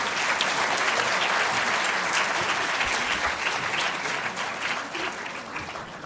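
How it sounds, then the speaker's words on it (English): Sustained applause from a large audience at a digital technology symposium, a steady dense wash of clapping that holds at an even level for the whole stretch without any talk. "Let's have one more massive round of applause for all 13 teams."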